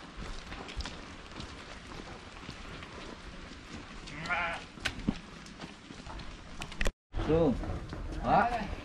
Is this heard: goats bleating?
yes